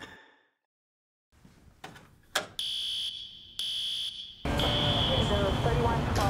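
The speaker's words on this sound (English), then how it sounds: "A breaker must have tripped and set off the alarm." An electronic fire alarm, set off by a tripped breaker, blares in loud, steady high-pitched bursts, starting and stopping before sounding continuously, with clattering noise around it.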